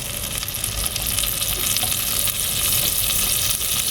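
Butter melts and sizzles in a hot pot at the start of a vegetable soup, a dense, steady crackling fry that stays close and loud throughout with no voices.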